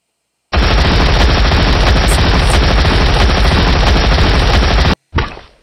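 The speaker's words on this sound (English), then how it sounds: "Poo that is exploding?" Exploding poo in the Doodieman video game, heard as a loud continuous rapid-fire burst like machine-gun fire lasting several seconds, then a cut and a short final blast.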